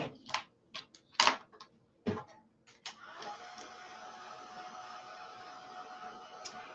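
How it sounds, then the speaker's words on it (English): Heat gun drying a paper craft card project: a few sharp clicks and knocks give way to a steady, fairly loud blowing whir that continues to the end. "Let's dry this with our heat gun."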